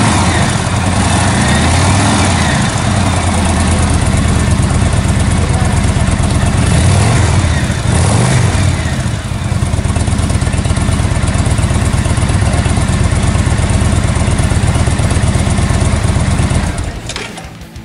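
A loud, steady motorcycle engine rumbles close by for most of the clip, with a few revving swells before it cuts off abruptly near the end.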